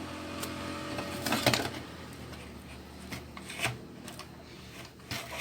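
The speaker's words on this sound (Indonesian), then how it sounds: "Ini kita cuma membuka baut ini ya, baut ada 4" A screwdriver backs the screws out of a Panasonic RF5250 radio casing, giving scattered close scraping, rasping turns and small clicks against a quiet background.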